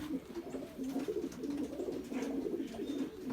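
A pigeon hen coos in a low, rolling, repeated pattern, close and steady over a few seconds with no talking.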